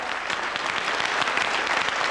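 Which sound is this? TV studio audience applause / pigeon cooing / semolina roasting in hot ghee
TV studio audience applause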